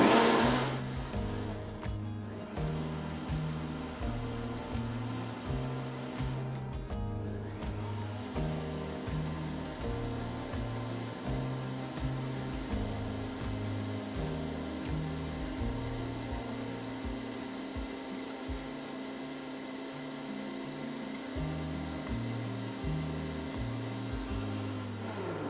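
Blender pureeing navy beans with tomatoes, a steady loud motor whir with pulsing low rumble that runs continuously and close throughout.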